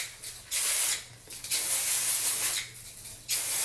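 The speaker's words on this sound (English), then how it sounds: "you need some dry shampoo" Dry shampoo hisses from an aerosol can onto the roots of short hair in three separate bursts, each roughly half a second to a second long, close and fairly loud with short pauses between them.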